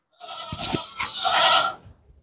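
A short, heavyweight Khassi goat lets out one close, loud bleat lasting about a second and a half, with a few quiet thumps just before it.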